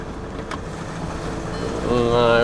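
A crashed Volkswagen Amarok pickup on a short test drive, a steady engine and road rumble that swells near the end as the engine note climbs, with wind noise and no talk.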